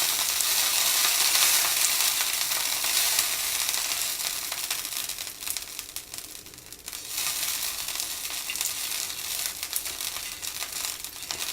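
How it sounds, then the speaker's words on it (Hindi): Hot oil sizzling steadily on a heated tawa as it is greased before cooking besan cheela, a continuous loud hiss with a brief dip partway through and no voices. "अब हम तवे को ऑयल से ग्रीस कर लेंगे।"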